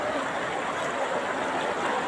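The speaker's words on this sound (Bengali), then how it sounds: "এখানে এসে নিজের কানে পানির কলকল শব্দ শুনতে পেলাম।" Water babbles in a stream at Sadapathor in Sylhet, a steady, full rushing hiss that stays at an even, fairly close level throughout, with no talk over it.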